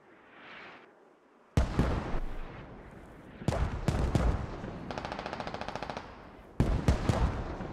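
Heavy booms from mortar strikes mix with sustained rattling bursts of automatic gunfire in the Squad military shooter video game, loud and close, following a quiet rumbling start.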